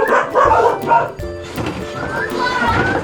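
A dog barks in a few sharp bursts close by in a home, mixed with children's voices and household noise.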